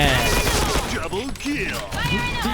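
Bursts of gunfire in the Point Blank shooter rattle in quick succession, fairly loud, with a voice talking over the shots.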